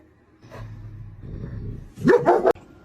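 A dog gives a short burst of barks and yips near the end after a low rumbling whine, loud and close, with no one talking.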